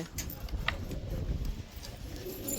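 Soft pigeon cooing amid a busy rooftop background, with faint rustling and low murmurs; the calls are quiet and intermittent.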